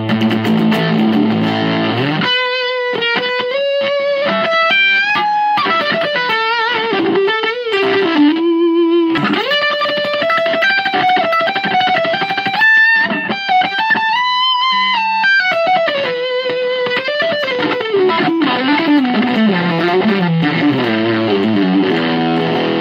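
An electric guitar played through a Yamaha THR5 modelling amp on its Modern setting with gain maxed gives a loud, saturated distorted tone as a sustained melodic line with bends and held notes, alone and close.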